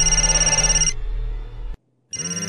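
A telephone bell rings in a steady trilling burst, breaks off, then starts again after a short silence; loud and close, with no voices over it.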